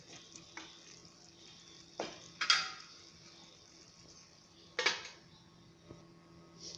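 A lid clanks down onto a pot of steamed egg moli, giving a few sharp metallic knocks and clatters over a quiet kitchen background with a steady low hum.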